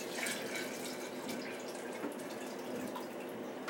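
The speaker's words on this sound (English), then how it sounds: "We've collected the juice in the bucket. We'll go ahead and pour that down into here." Peach juice pours steadily from a bucket into a fermenting vessel for homemade wine, a continuous soft splashing stream heard close with no talking.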